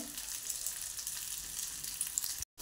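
Fish frying in oil in a pan: a steady, close, hissing sizzle that holds evenly, with a brief cut-out just before the end.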